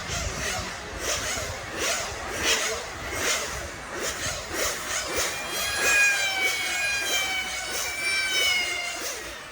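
1/8-scale on-road race car engines warm up at a mountain venue in Lostallo, Switzerland. Distant motors rise and fall in repeated swells with an echoing boom, and a thin, high revving whine emerges toward the end.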